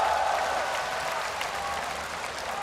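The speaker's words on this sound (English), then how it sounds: "Just listen to the crowd." An esports arena crowd at a League of Legends LCS 2013 All-Star event claps and cheers in a steady, sustained wash of applause, heard from a distance and fairly subdued throughout.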